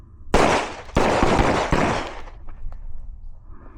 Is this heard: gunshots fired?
yes